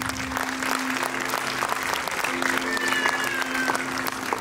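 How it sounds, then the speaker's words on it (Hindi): An audience at a school annual function claps for teachers in a dense, steady round of applause, with a faint crowd murmur and a low sustained tone running underneath. "तालियां हो जाए इनके लिए"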